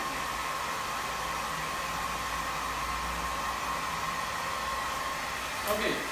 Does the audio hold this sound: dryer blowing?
yes